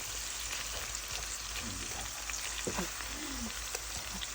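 Corned beef frying in a pan for breakfast, a faint steady sizzle with soft crackles and a few small pops, quiet and continuous with no talking.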